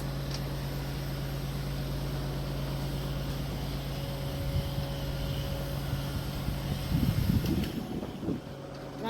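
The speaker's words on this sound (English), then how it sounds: "it's windy outside. Wow, it's really windy." Steady wind roars outdoors as a broad whooshing rush, gusting a little louder toward the end, with faint rustling and thumps.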